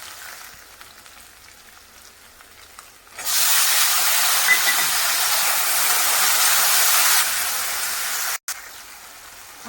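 Ginger-garlic paste and tomatoes for Khandeshi dal hit a hot pan with a sudden loud sizzle that hisses steadily for several seconds before dropping back to a quiet simmer.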